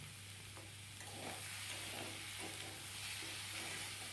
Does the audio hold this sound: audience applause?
no